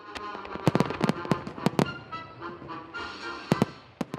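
Fourth of July fireworks in America, a rapid, irregular string of sharp bangs and crackles, some close and loud, with a brief lull before another cluster of pops.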